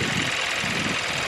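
A Hyundai Sonata engine in for a major overhaul idles steadily and fairly smoothly nearby, a continuous even hum with a faint rattly texture and no speech.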